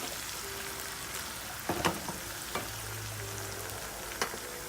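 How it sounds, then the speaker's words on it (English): Onions cook down in a pan for gravy made from scratch, with a quiet, steady sizzle and a few sharp clinks and scrapes of stirring scattered across it, close by. "You just want to cook these onions down a little bit"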